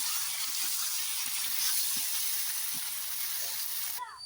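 Chicken liver and spring onions fry in a pan with a steady, close, loud sizzle and hiss that runs through the whole stretch, with faint scraping stirs now and then and no talk.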